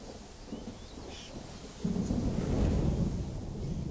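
Thunder rumbles low during a thunderstorm over the savanna, a distant roll that builds and grows louder midway and lingers, with faint rain hiss around it.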